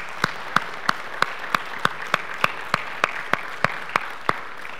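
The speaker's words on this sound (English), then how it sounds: "let us all give God a round of applause for what God is doing in our lives" In church, a congregation's applause comes through as crisp, evenly spaced claps, roughly three per second, a steady rhythmic beat at moderate distance over a soft background hum, with no talking.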